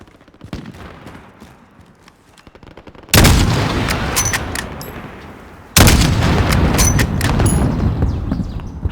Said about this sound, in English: I will shoot that guy with my gun.